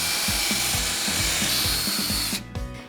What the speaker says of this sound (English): Take a 3/4 inch Forstner bit, and we're just going to drill all the way through our board.